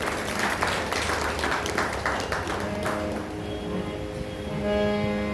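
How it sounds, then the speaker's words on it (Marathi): Audience applause at a kirtan, a dense crowd clapping steadily and loudly throughout, with a sustained tone entering partway through. "त्याच्यासाठी एकदा या दोघांसाठी तुम्ही टाळ्या वाजवल्या पाहिजे."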